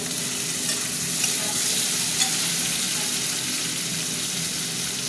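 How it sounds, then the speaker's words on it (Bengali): Potatoes frying in a kadai give a steady, dense sizzle that fills the whole stretch, with faint stirring scrapes and no voices. "ভাজা ভাজা হতে থাক।"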